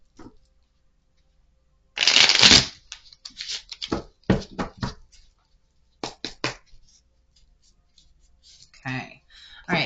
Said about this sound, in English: shuffling the cards is like one of my favorite things to